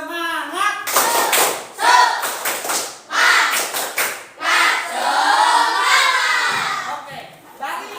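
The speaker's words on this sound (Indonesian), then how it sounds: "tepuk tangan buat kalian" A class of children clapping hands in a lesson, several rhythmic bursts of patterned clapping alternating with loud children's voices and chanting.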